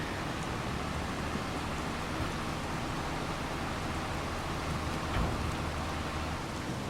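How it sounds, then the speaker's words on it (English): Steady rain falling in the video game Farming Simulator 25, a continuous even hiss of rainfall with a faint low rumble beneath, unbroken for several seconds and no talk. "I've got to wait for the rain to stop"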